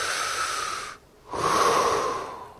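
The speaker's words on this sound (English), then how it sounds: "if you breathe in and out, you're using your lungs" Two slow, audible breaths, an inhale and then an exhale, separated by a short pause, close and clear with no talking.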